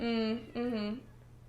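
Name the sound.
cat meowing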